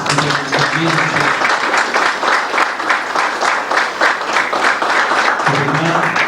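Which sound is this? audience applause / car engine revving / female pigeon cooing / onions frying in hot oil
audience applause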